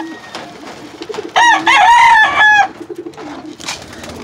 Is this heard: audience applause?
no